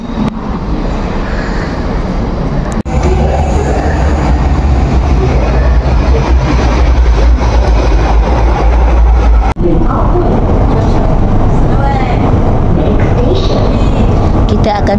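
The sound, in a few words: MRT train ride in Kuala Lumpur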